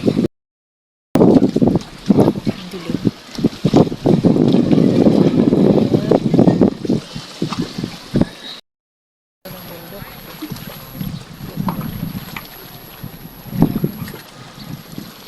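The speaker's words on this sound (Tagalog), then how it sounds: "Maingay. Mahangin kasi." Gusty wind buffets the microphone outdoors at a lake, loud rumbling bursts with a short break, a faint high tone later.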